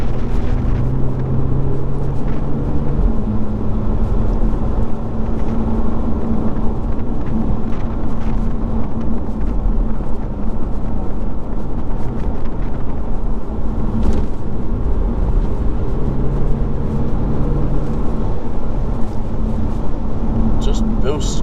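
A Lotus Evora driving a country road in England, its engine note a steady close rumble with shifts in pitch as it changes gear, overlaid by road and wind noise, while someone talks over it.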